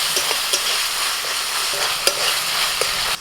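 Ginger-garlic paste, salt, Kashmiri chili, cumin, coriander, turmeric and red chili powders sizzle as they are stirred and sautéed in a pan, a steady close-up crackle broken by occasional louder scrapes of the spoon.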